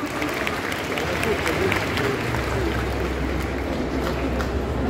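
Audience applause for a cosplayer portraying Malenia from Elden Ring at a Paris cosplay contest, steady clapping filling the hall for the full stretch with crowd noise mixed in, fairly loud and close.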